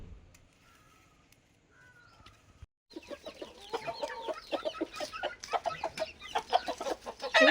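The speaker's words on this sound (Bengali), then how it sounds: "এবারে মুরগিগুলো ছেড়ে দেওয়া হয়েছে" Chickens let out of their coop break into busy clucking after a near-silent start, a dense run of overlapping cackles that grows louder and closer toward the end.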